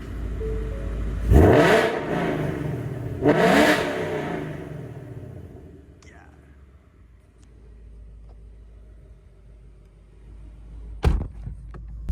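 A Ford Mustang's exhaust with its valves open roars through two loud revs close up, then settles into a low, rumbling idle with a sharp thump near the end.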